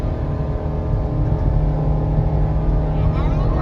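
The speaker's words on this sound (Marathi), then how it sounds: "फर्स्ट गिअरवरच तुमची गाडी जाणार आहे इथे हा डोंगर आहे" Car engine drones steadily in first gear while climbing a hill road toward the Shabari Dham temple, loud and continuous under faint wind noise.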